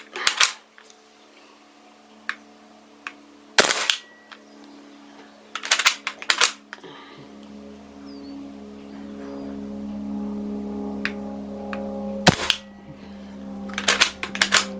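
A Hatsan Blitz .22 air rifle fitted with a silencer fires single rounds, each a sharp, close, suppressed snap, spaced irregularly several seconds apart over a faint steady hum.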